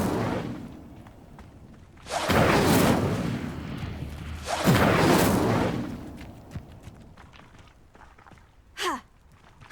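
Incendio fire spell cast in Hogwarts Legacy, heard as two loud whooshing, crackling bursts a couple of seconds apart, followed by quieter footsteps and a brief sharp zap.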